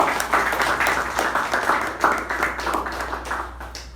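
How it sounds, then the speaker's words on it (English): A round of applause at a club meeting, hands clapping steadily for several seconds at moderate volume, fairly close, with irregular individual claps standing out in the crowd's patter. "Let's give her a special round of applause."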